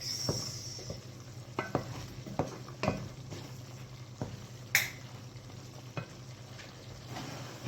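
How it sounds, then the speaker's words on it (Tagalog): A spoon repeatedly scrapes and taps through a spice mixture of black pepper and coriander powder in a pan, giving irregular clinks and knocks over a low background sizzle, close and moderately loud with no speech. "So, mix muna natin siya guys"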